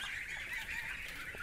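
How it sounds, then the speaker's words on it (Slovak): German broiler geese on a farm, a flock honking and calling together in a dense, continuous chorus close by. "Toto je tzv. Nemecká brojlerová hus."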